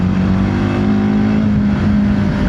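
TVS Apache RTX 300 adventure motorcycle cruising hard in second gear at speed, its engine a loud, constant close-up hum with a slight pitch dip near the end, no voices.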